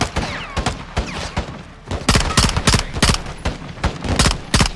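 Rapid gunfire echoes through a Call of Duty Modern Warfare 2 battle, loud sharp shots in quick uneven bursts, sparse at first and then a denser volley.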